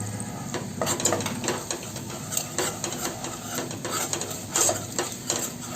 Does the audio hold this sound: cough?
no